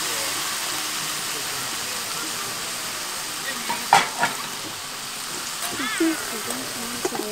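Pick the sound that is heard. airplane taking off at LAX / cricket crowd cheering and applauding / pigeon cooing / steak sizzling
steak sizzling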